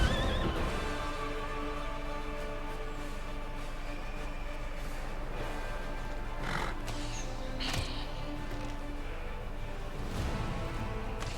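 A horse in Pathfinder: Wrath of the Righteous neighs loudly and whinnies over a steady bed of game music, with hoof clops mixed in.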